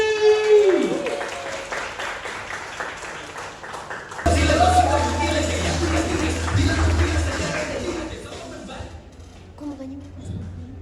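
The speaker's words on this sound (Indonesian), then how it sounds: "tepuk tangan meriah untuk Fajar Mukti" Audience applause for comedian Fajar Mukti at a stand-up comedy show in Malang, a sustained wash of clapping with music, broad and steady, swelling at one point then tapering off toward the end.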